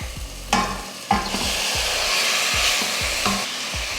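Mutton chunks dropped into a pan of frying ginger garlic paste and stirred for a Tamil mutton kulambu, several loud thuds and scrapes over a steady close sizzle, no voices.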